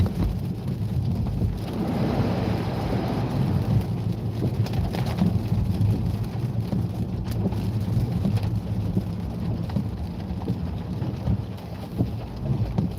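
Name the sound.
rain and thunder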